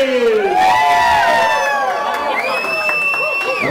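A comedy club audience cheers and whoops loudly for a performer, with sustained shouting, high whistles and excited yells filling the room continuously, close and dense, while a voice calls out over the crowd.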